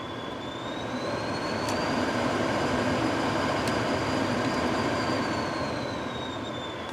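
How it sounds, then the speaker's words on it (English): A BMW E34 heater blower motor runs continuously with a broad whooshing rush and a faint whine that rises and falls as the speed changes, close up with no speech. "Blower's working. Got full control of speed."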